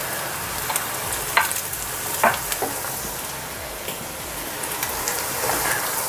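Keema mince sizzles steadily in a pan under continuous stirring, a dense, rain-like crackle with occasional spoon scrapes and taps, close and fairly loud, with no talking.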